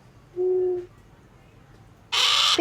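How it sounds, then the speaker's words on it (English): An owl gives one short, low, clear hoot, followed after a pause by a loud, bright burst of a different sound. "O is for owl."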